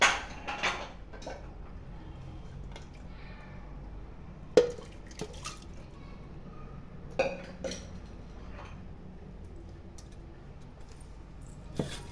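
Boiled spinach greens mashed in a clay pot with salt and chillies: sparse soft knocks and wet squelches, with a few louder taps against the pot and quiet stretches in between.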